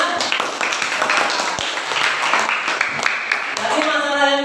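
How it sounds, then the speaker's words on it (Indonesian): A class group in an Indonesian school lesson gets applause. A few seconds of clapping form a busy patter, then a voice starts at the end. "Tepuk tangan untuk kelompoknya."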